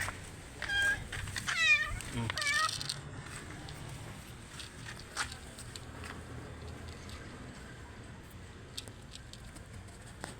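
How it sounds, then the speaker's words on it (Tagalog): A cat meows several times in quick succession early on, fairly close, followed by a low rustling background with occasional faint clicks. "Bitin pa yung si Lechon Paksiw na pusa"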